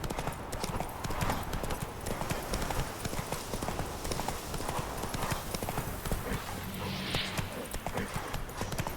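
Hooves of Roach, Geralt's horse in The Witcher 3, clip-clop in a steady continuous rhythm, close and clear, with faint in-game ambience underneath and no talking.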